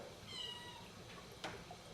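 A cat meows in a few drawn-out calls with rising and falling pitch, close by in a quiet room, followed by a brief sharp noise near the end.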